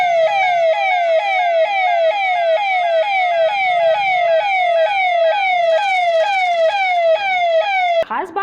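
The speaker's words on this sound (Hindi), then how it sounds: "शाम 7 बजते ही सायरन बजाया गया" A loud electronic siren wails in rapid repeating sweeps at 7 pm in Jabalpur for COVID-19 awareness, going on for several seconds before cutting off abruptly near the end.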